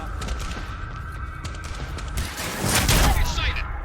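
Gunfire in the video game Quantum Break, set in a research facility garage, with dense overlapping shots and impacts under game music, rising into a louder burst near the end while a voice shouts.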